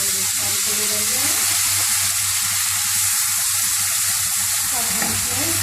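Chickpeas tipped into a hot pan of roasted cumin seeds, frying with a loud, continuous hiss and crackle alongside scraping stir sounds, close and steady throughout with no talk.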